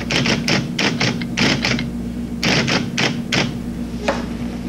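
Keys clack on a terminal keyboard as an APL command is typed, in quick bursts of close, crisp keystrokes separated by short pauses, with a steady low hum underneath.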